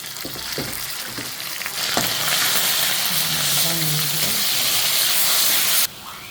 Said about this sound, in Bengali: তেল গরম হয়ে গেছে পেঁয়াজ দিয়ে দিলাম পেঁয়াজটা আমার লাল করে ভাজা হয়ে গেছে দিব আদা রসুন বাটা